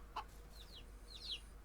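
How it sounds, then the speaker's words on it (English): Chickens in the farming video game Ranch Simulator give a few soft, faint clucks and short chirps, spread over a quiet background with no talking. "I would not recommend having this many freaking chickens"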